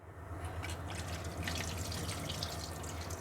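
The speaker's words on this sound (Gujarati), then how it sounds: "તો હવે આ પાણી બધું ડ્રેન કરી અને આપણે ગ્રાઇન્ડ કરવાનું છે." Water draining away from soaked dried Kashmiri chillies in a kitchen, a steady close trickle and drip running without pause under a low background hum.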